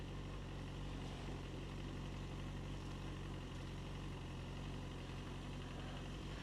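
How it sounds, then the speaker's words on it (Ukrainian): A Yamaha FZ6S motorcycle with 11,000 km on it idles while warming up, a steady low engine drone with even mechanical hum, close and continuous, no voices. "Зараз ще трішки я почекаю, поки він температуру покаже, трішки зараз прогріється"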